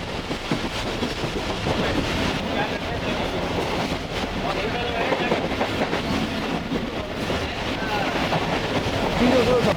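A Tezgam passenger train runs past Jumma Goth station, heard from on board as a loud, continuous rumble with rhythmic wheel clatter and rattling carriages for the whole stretch, with some faint voices mixed in.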